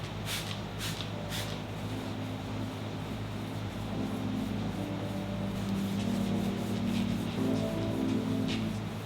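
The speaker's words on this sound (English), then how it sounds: "I take a microfiber towel after I'm done claying and basically just wipe off the residue left by the clay luber" A microfiber towel wiping clay lube residue off car paint, a soft, continuous rubbing and swishing close by, with faint repeated strokes over a low background hum.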